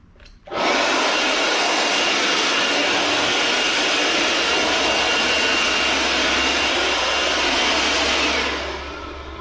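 A Bauer 20V cordless leaf blower with a 5 amp hour battery starts up in a garage and roars as a loud, steady airy whoosh for about eight seconds before spinning down, with no talk.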